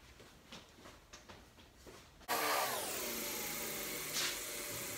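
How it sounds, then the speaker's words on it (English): Sanding a tapered wooden rake handle, with a low scraping rub at first, then a sudden loud, steady power-tool whine taking over; nobody speaks. "Looks like this one was tapered, so we're going to sand this just a little bit"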